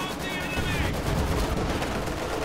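Maxim machine gun rattling in a strategy video game, rapid sustained bursts of gunfire mixed with battlefield noise, fairly loud and continuous.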